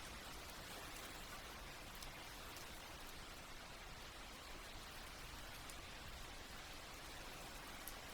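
Steady rain falls outdoors in an even, unbroken hiss, with faint scattered drop taps and no voices.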